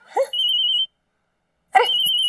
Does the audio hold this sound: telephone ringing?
yes